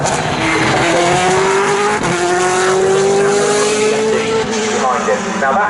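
A 1992 Footwork Arrows Formula 1 race car at a demo run, its engine screaming loud and close with a rising pitch as it accelerates past, a brief squeal of tires partway through.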